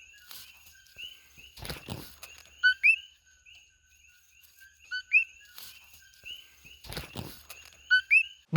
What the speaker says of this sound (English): I'm just going to find this frog and play this noise for a few seconds here.